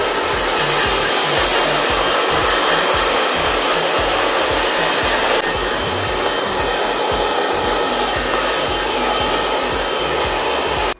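A hair dryer blows steadily and loudly on a bob haircut, a continuous close rushing whoosh with no pauses and no voices for the full stretch.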